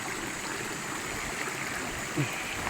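The Ilaya River rushes continuously with a steady broadband roar, flowing nearby, with no other sounds standing out.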